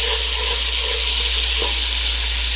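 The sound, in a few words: food sizzling in frying oil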